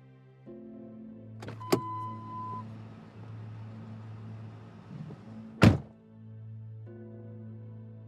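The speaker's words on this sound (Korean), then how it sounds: "버스와 지하철이 끊겨서 결국 택시를 탔다." Someone gets into a taxi as a radio drama effect. The engine idles with a steady hum, a door thunks shut with a sharp slam midway, and a low motor drone continues afterward.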